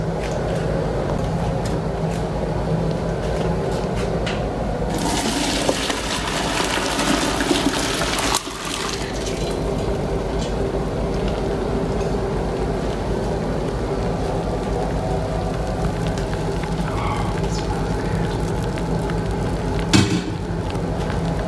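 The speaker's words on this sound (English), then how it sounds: "Alright, so we've strained our mushroom tea." Freshly simmered reishi mushroom tea decoction, just taken off the heat, is poured through a strainer. A steady gush of liquid starts partway through, loud and close, and keeps running continuously.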